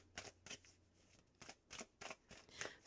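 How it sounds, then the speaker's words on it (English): Tarot cards riffled and shuffled by hand in several short bursts, crisp papery flutters separated by brief pauses, close and fairly quiet with no talking. "Let's go ahead and let's shuffle here"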